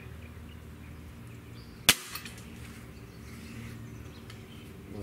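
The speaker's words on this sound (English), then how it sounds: "we're gonna do a quick trigger test on our Diana AM03" A single sharp, faint click as the trigger of a Diana AM03 breakbarrel air rifle breaks against a Lyman trigger gauge, with a tiny follow-up tick, heard close in a quiet room.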